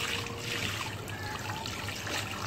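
Water poured into a bowl for pets, a soft continuous trickle and splash at low level, steady throughout with a faint background hum.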